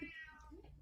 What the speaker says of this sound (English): Sorry, that's our cat. She's chiming in too.